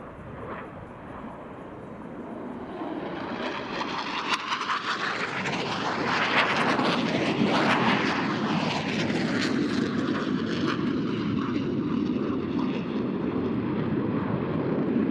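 Military jet aircraft roaring past at an air show as two pilots cross their planes over show center, a loud continuous engine rush that swells and peaks mid-pass with a descending Doppler sweep, then lingers as a broad rumble.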